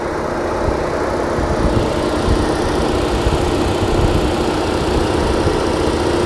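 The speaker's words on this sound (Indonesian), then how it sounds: "Halus mesin ini, guys." An Opel Blazer SUV engine idles smoothly and loudly up close, a steady even rumble with a faint constant hum, unchanging throughout and with no talk.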